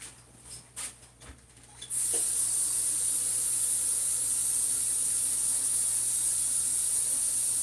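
A new kettle heating water gives a steady, loud hiss that starts suddenly after a few soft knocks and bumps and then continues unchanged to the end, with no talking.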